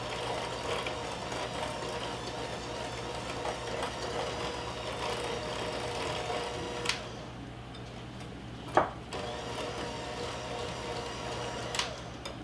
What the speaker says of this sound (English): So we're just mixing this until it looks nice and light and fluffy.